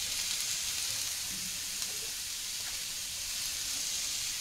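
Green chillies and sliced green tomatoes roast in a little oil, giving a soft, steady sizzling hiss that stays faint and even throughout, with no talking.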